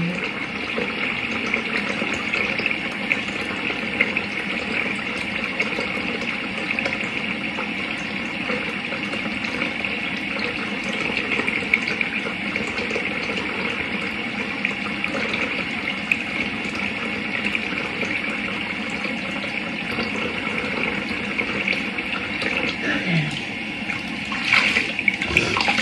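Tap water runs steadily into a bathroom sink during a face wash, a continuous hissing splash that stays even and close throughout, with a few faint handling knocks near the end.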